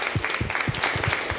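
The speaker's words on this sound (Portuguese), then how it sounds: "uma salva de palmas." Applause for competing teams at a physics tournament, quick clapping with a regular pulse, fairly close and moderately loud, carrying on briefly.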